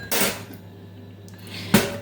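Forks being scrubbed with a brush while washing dishes in a home kitchen give two short, bright clinking scrapes of metal, one at the start and one near the end, with a quiet low hum between them.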